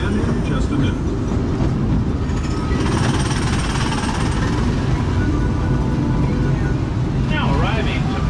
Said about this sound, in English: The train's going to pull into the station pretty slowly, but it will still be moving